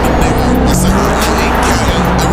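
A loud Dodge Hellcat engine roars close by while cruising downtown, a harsh, powerful rumble that holds steady and fills the whole moment.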